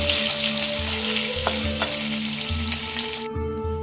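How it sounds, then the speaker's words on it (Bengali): Small hilsa fish frying in hot oil make a steady, loud broadband sizzle with a few sharp pops and crackles, ending abruptly as the sound cuts to near silence. "এবার এই মাছগুলোকে একটু হালকা করে ভেজে নেব"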